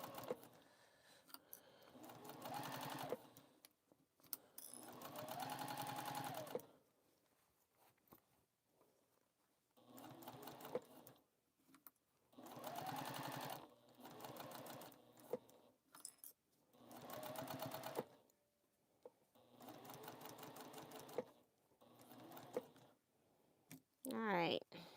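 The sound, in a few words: sewing machine stitching a seam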